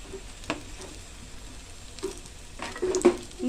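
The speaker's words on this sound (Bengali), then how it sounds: "এখন আমি চপগুলোকে আস্তে আস্তে করে আস্তে জাল দিয়ে ভেজে নেব মশমশা করে।" Potato chops frying slowly in oil over low heat, giving a soft, close sizzle broken by a few sharp spatters and light utensil taps, no voices.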